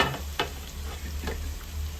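Tomatoes sautéing in a pan for a Tamil-style country chicken curry with pumpkin, a steady low sizzle with a couple of brief stirring scrapes, close and fairly quiet with no voices.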